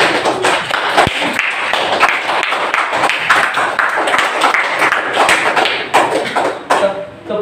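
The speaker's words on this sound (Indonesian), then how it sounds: "tepuk tangan untuk" Classroom applause for a student's correct answer, a dense burst of many hands clapping together, fairly loud and sustained throughout with a few sharper taps mixed in.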